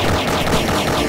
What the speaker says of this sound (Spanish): ¡Ah, balazos! Y encima rebotan.